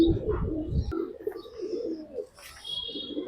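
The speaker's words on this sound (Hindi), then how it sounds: "ये कबूतर है" A pigeon coos in a few soft, low, rolling phrases close by, with light chirps and rustles around it.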